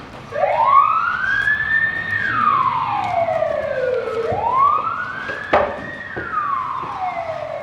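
An ambulance siren wails loudly in long rising and falling sweeps, close and dominant, with a brief knock partway through and no talk.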